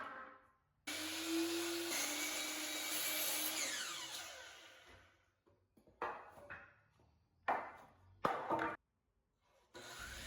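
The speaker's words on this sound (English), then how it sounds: "Now I can cut my 4 rails front and back to 74¼ inches." A power saw cuts wooden rails for a mobile garage workbench: a loud whining cut runs for several seconds, then fades, and shorter bursts of saw noise and wood handling follow, with silent gaps between.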